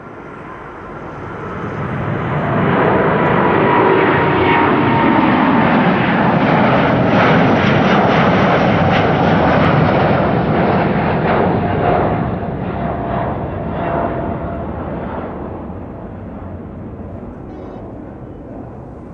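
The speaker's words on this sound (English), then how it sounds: "Even the A330s already airborne rapidly." An Airbus A330 takes off at Amsterdam Schiphol, its jet roar swelling over the first few seconds to a loud, powerful peak, then slowly fading as it climbs away.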